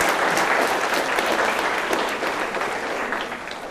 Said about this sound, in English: Please give a round of applause for these new chapter partners.